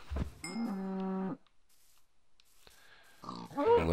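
Cows moo in the blocky survival game Minecraft: one long, loud, drawn-out moo, then a quiet gap, then another lowing call rising at the end.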